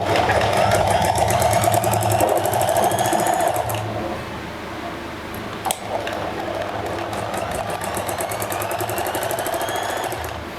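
A sewing machine stitches pleats on a salwar in fast, rapid rhythmic bursts, close and loud, pausing briefly midway before running again at a steady clatter.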